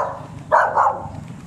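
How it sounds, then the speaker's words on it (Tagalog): An agitated dog barks on a rural walk past mango trees, giving a short loud burst of two or three harsh barks close by, with no talking over it. "Galit yung aso."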